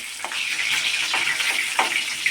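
Garlic chicken pieces fry in a pan, partly cooked, with a continuous bright sizzle and a few soft scraping knocks from stirring, close and steady throughout.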